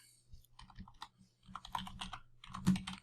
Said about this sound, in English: So for this, we'll just type in